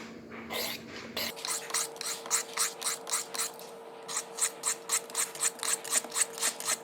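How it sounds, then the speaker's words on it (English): A knife blade drawn in steady, evenly spaced strokes across an abrasive sharpener, with about fifteen rhythmic rasping passes at a close, moderate level, with a voice speaking over the start. "Try to do the same number of passes on each side of the blade. Use light pressure. Let the abrasives do most of the work."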